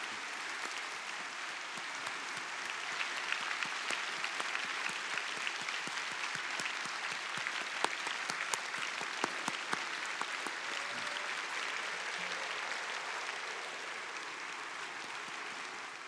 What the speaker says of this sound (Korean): 다시 한번 들어가실 때까지 더 뜨거운 박수로 축복해 주시면 감사하겠습니다.